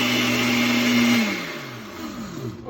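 A blender whirs loudly at a steady pitch as it mixes homemade newsprint and white paper pulp for leaf casting, then winds down and slows toward the end, with no voices.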